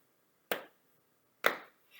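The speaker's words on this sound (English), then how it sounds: "Clap your lap." Hands pat a lap twice in a steady beat at preschool story time, two sharp slaps about a second apart with a softer third starting at the end, close and alone with no talking.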